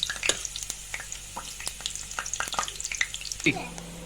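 Mushroom curry with coriander sizzles gently in a pan over low heat, a steady crackle with scattered sharp pops and stirring clicks throughout, close and moderately loud, with no talking.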